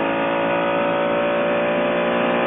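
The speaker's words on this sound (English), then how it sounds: "The noise of the Mercedes-Benz is what everybody remarks upon. It sounds like a big, loud American car." A Mercedes-Benz race car engine at the 1999 Le Mans 24 Hours holds a steady, loud, droning roar with a rich harmonic tone, sustained evenly throughout with no break.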